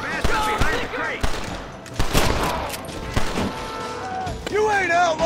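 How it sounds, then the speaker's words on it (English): Bursts of gunfire in a Red Dead Redemption shootout, sharp cracks scattered through the clip over game music and ambience, with voices briefly heard. "Gunfire!"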